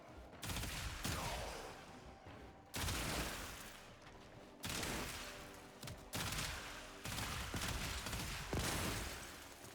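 Burston Prime gunfire in the shooter game Warframe, loud bursts of rapid shots in several separate volleys with short pauses between them, each followed by a decaying echo.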